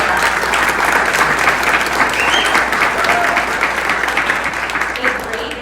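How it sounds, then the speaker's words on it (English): Applause from an audience at a realtor association board installation, a dense, even wash of clapping that holds steady and fades slightly at the end, with some voices mixed in. "we need a big applause for that."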